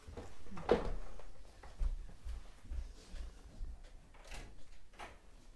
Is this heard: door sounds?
yes